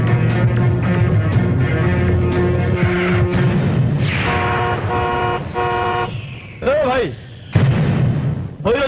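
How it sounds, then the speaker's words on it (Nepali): A car horn honks loudly and close in a city street, mixed with engine noise, a steady drone and other street sounds, then sharp bursts later on. "भैरो छौ कि क्या हो हर्न बजाएको सुन्दैनौ"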